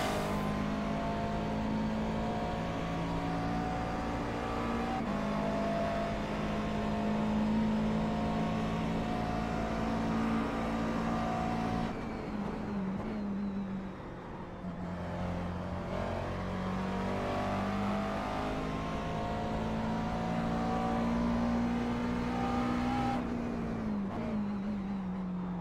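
A McLaren MP4-12C GT3 race car howls at high revs around Bathurst in iRacing, a steady, loud engine drone with shifting pitch at gear changes and a brief lift off the throttle midway.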